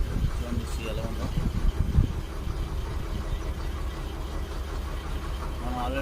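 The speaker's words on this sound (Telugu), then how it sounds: "ఇదేనండి మనం వెళ్ళబోయే బోట్." A fishing boat's engine runs out at sea, giving a steady, continuous low rumble that fills the whole stretch, with a voice talking over it.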